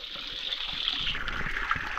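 Water gushes steadily out of a pipe or outlet at a villa in Medellín, a continuous close hiss and splash with no pauses and no talking.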